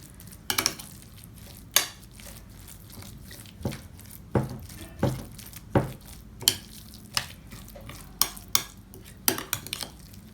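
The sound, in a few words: mixing chicken momo filling in a bowl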